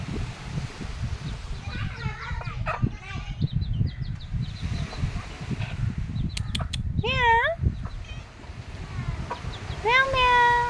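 A rooster and a cat squabble nearby, with wavering cat yowls and meows breaking out in bursts, the loudest near the end, over rustling, clucking fowl sounds and steady low background noise.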